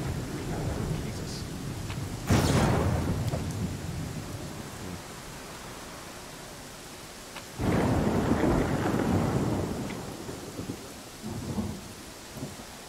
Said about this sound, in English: Nice does that rain sound, by the way?